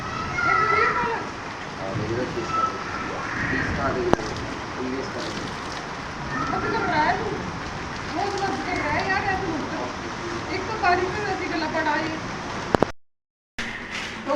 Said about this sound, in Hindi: हमारे यहाँ पे ब्रेड पकोड़े बनने शुरू हो गए हैं